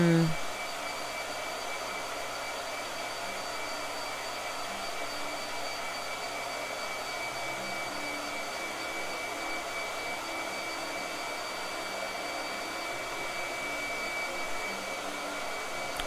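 Hair blow dryer running continuously at a steady, even whoosh for the whole stretch, close and moderately loud, with a brief bump at the start and no clear talk.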